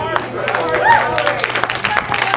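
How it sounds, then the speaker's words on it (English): An audience at a talk at Slippery Rock University, Pennsylvania, claps in scattered, uneven bursts, moderately close, with voices and a whoop mixed in. "Well, thanks for clapping."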